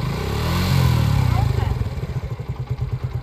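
A motorcycle engine revs up and then settles into a chugging, pulsing idle-like beat as a learner rider releases the clutch, heard close, with a person talking over it.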